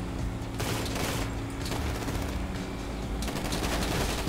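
Dense, continuous gunfire from GTA Online, with rapid overlapping bursts and shots filling the whole stretch at a steady, loud level.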